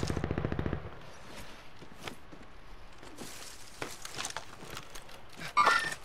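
Gunfire in the Warzone video game: a rapid burst of automatic shots opens loudly, followed by scattered distant shots, footsteps and rustling movement, with a brief louder clatter near the end.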